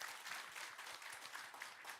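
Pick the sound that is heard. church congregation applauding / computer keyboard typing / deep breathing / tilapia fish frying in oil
church congregation applauding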